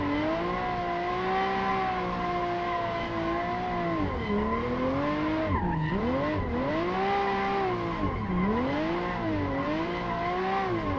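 A Lamborghini in Assetto Corsa drifts with a long, wavering tire squeal over a steady engine drone, its pitch swooping up and down as the car slides through repeated turns, close and continuous.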